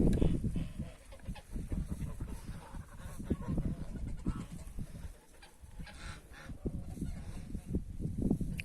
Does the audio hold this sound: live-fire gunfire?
no